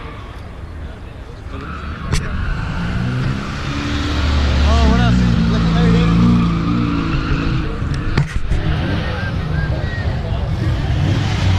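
A loud car engine rumbles and revs nearby at a night-time car meet, its roar swelling midway while people talk over it and occasional sharp clicks cut through.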